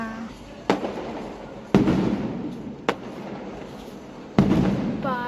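Firecrackers bursting for a wedding, four sharp loud bangs spaced irregularly and fairly close, each trailing into a rumbling echo.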